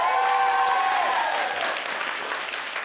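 A theatre audience at an improv show applauds to vote on a story option, a dense wash of clapping and crowd noise that starts strong and gradually thins out.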